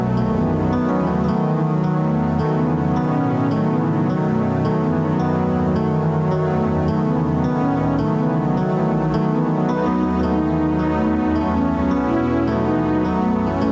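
An early-1990s PC game sound test playing through a sound card such as an AdLib or Sound Blaster, with a busy, continuous tonal synth passage of layered notes that is steady and loud throughout, with no talk.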